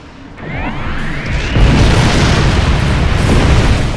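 Spaceship explosions in Star Trek Online: a rising whoosh swells into a loud, sustained rumbling boom that fills the rest of the moment, with no voices.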